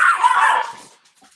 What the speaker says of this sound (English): Somebody stepped on the dog or something.